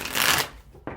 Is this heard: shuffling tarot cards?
yes